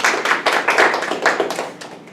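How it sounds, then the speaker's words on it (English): A short round of applause for a competing team at a group project competition, dense overlapping claps at steady loudness that thin out toward the end, with no talk over them. "Round of applause for Team"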